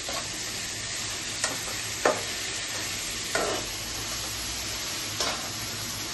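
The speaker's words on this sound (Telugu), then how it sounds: "కారం, సాల్ట్ అంతా ఫ్రై అండి." Chicken frying in oil with chili powder, salt and curry leaves, a steady loud sizzle throughout with a few sharp stirring scrapes and clatters spaced across it.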